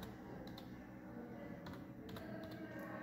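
Faint, quick keystrokes on a computer keyboard while HTML code is typed, a few scattered clicks over a low steady background hum.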